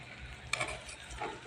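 Food roasting in a pan while being stirred gives a soft, steady sizzle with a couple of quick scraping clinks of the stirring utensil, fairly quiet and close.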